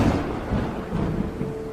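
Thunderstorm with a low, sustained rumble of thunder and steady broadband noise, moderately loud and continuous throughout, with no voices.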